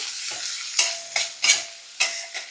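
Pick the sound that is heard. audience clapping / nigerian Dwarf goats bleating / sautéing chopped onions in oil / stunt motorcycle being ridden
sautéing chopped onions in oil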